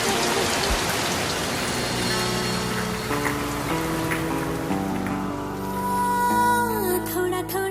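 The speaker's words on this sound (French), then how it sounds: "Il pleut." Steady rain falls with a continuous hiss and patter of drops on surfaces, mixed with soft sustained background music that shifts chords throughout.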